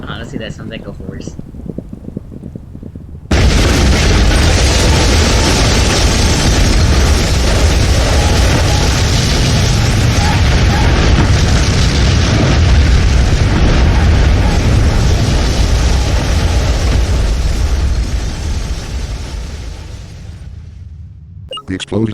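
A tower explosion in Manamon: a sudden loud boom erupts into a long, roaring rumble that sustains for many seconds before slowly fading away.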